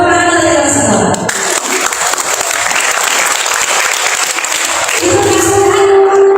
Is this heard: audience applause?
yes